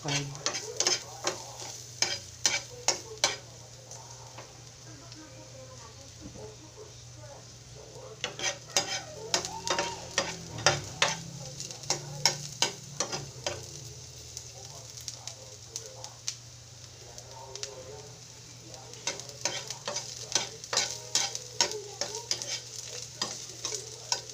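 Kangkong (water spinach) being stir-fried with leftover roast pork lechon, giving a steady sizzle in the pan with repeated clattering bursts of stirring from a utensil, close and moderately loud, no talking.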